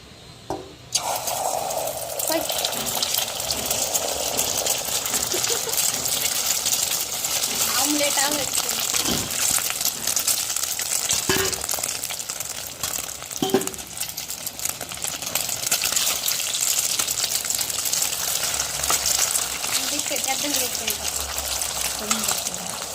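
Eggs frying in a steel pan of oil left over from frying chicken pieces, a continuous close crackling sizzle with occasional clinks and sputters across the whole stretch, a voice talking faintly in places.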